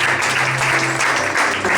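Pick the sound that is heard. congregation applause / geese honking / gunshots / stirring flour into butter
congregation applause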